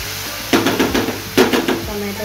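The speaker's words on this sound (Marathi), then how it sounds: "टमाटरला पण भाजून घेऊया।" Tomato frying in a pan with roasted onion for Goan sardine ambot tik, heard as two close bursts of sizzling and stirring scrapes against the pan, each lasting about half a second, over a steady low background.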